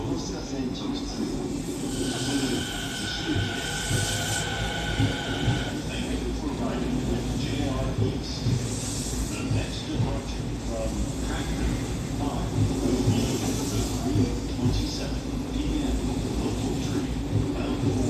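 A Rinkai Line 70-000 series train departs Osaki station as an out-of-service run to the depot, with a steady rolling rumble and sustained horn-like tones near the start, heard up close over platform ambience.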